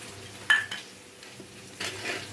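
Chicken pieces being mixed with ginger-garlic paste, heard as a couple of brief utensil clinks and soft stirring against a quiet background.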